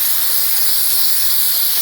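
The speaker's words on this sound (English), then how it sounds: "It's actually steam as soon as you turn it on." A handheld steam cleaner releases a constant loud, bright hiss of steam, steady and uninterrupted with no voices over it.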